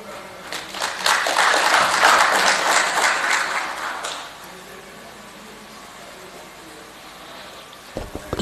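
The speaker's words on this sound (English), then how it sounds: "Maybe she deserves a better round of applause." Audience applause at a national dialogue on the right to food in Malawi, a full round of clapping from the room that swells for about four seconds, then thins to scattered claps and fades.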